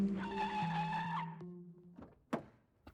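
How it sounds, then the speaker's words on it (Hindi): A car brakes to a stop, with a sustained tonal squeal that fades out before a sharp thunk and a brief rustle near the end, fairly quiet overall. "भैया यही गाड़ी रोक दो"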